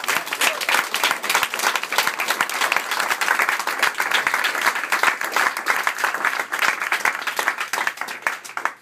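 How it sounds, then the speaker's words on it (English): Crowd applause at a US Senate campaign event in Wilkes-Barre, loud sustained clapping from many hands, close and continuous for several seconds before tapering off at the end. "I want you to give yourself one of the biggest round of applause today,"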